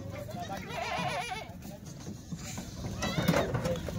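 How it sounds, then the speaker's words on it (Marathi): Kathiawadi goats for sale bleating in wavering, quavering calls that rise over a close, busy background, with someone talking nearby. "हे बघा मित्रांनो भुक्या शेळ्या"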